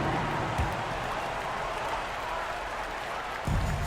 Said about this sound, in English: Let's give a big round of applause to your dad team.